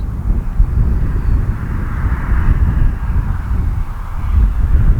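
Arrows RC Marlin 64mm EDF jet slowing with landing flaps on a windy day, its steady ducted-fan roar loud and continuous, blended with wind buffeting the microphone.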